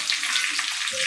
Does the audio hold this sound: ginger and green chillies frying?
yes